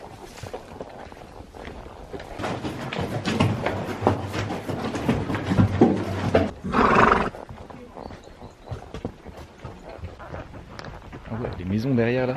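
During a horse ride in Cappadocia, Turkey, hooves clop and a horse snorts close by, while riders talk over it and a louder burst breaks in midway.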